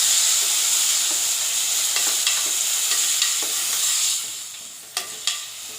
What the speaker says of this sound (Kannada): ಈಗ ರುಬ್ಬಿಟ್ಕೊಂಡಿರೋಂತಹ ಮಸಾಲೆನ ಹಾಕ್ಕೊಂಡು ಚೆನ್ನಾಗಿ ಫ್ರೈ ಮಾಡ್ಕೋಬೇಕು